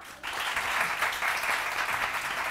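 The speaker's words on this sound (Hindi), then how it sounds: "सबसे पहले तो मैम के लिए तालियां" A studio audience on a morning TV show bursts into sustained applause, a dense even clatter of many hands clapping from start to finish.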